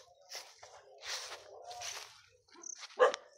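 A dog barks once or twice in a back yard, fairly close, between stretches of people talking, with a sharp loud bark near the end.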